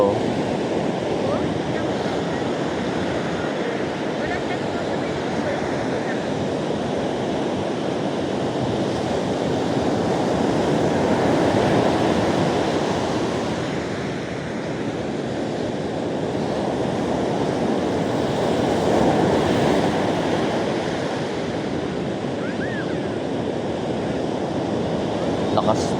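Ocean surf at Baler, Aurora, where people are surfing: a continuous broad roar of breaking waves swelling and easing in long surges, mixed with buffeting wind noise on the microphone.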